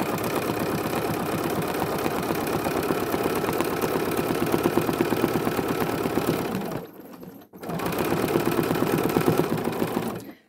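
A sewing machine runs steadily and loudly during free motion quilting on a thread-painted art quilt, its fast, even needle rhythm broken only by one brief pause before it starts up again.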